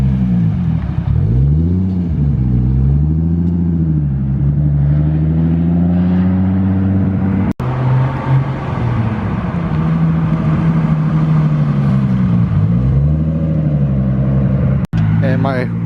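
A deep, rumbling engine of a tuned 640 whp S15 Silvia drones and swells as it revs up and settles, loud and close, with a couple of sharp clicks.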